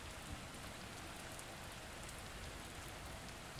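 Gentle, steady rain falls with an even, continuous patter that never changes in intensity. It is soft and quiet throughout, with no voices.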